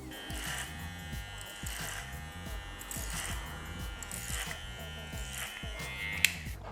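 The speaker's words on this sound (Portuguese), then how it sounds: "Fazendo aqui o clipper overcomb." An electric hair clipper buzzes steadily while cutting hair over a comb in a barbershop fade, with short repeated strokes at close range and a faint click near the end.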